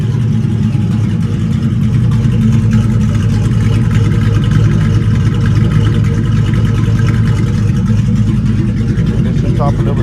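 A Ford Mustang GT with a 4.6 2V engine and stage 1 cams runs at a steady idle, a loud, continuous low rumble that holds an even pitch without surging for the full stretch.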